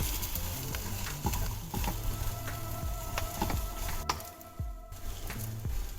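Vegetables being stirred and frying in a hot pan with oyster sauce and sweet soy about to be added, a steady loud sizzle broken by repeated scrapes and knocks of a spatula across the pan.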